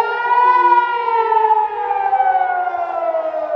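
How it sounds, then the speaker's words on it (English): A loud wailing civil defense air raid siren in Jerusalem, a single sustained tone slowly sliding downward in pitch, with no talking. "you hear the sirens behind me? They've been going off all morning."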